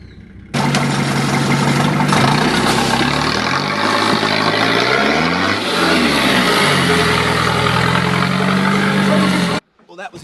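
Car engine running steadily during a drive around the block test, a loud continuous close drone with a brief rev swell midway, cutting off abruptly near the end.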